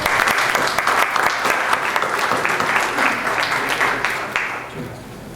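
An audience at a conference on the Legazpi and Urdaneta expedition welcomes a speaker with vigorous clapping that thins and fades toward the end.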